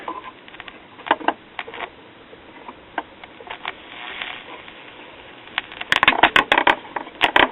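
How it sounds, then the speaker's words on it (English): A repaired 1969 Westinghouse AM solid-state clock radio plays through a test speaker, giving off crackling static. Irregular clicks and pops sound close, growing denser and louder toward the end. "I hear static."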